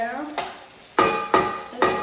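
Metal utensils scrape and clatter against a pan in a few sharp strokes, with a faint sizzle of vegetables stir frying underneath, close by and without talk.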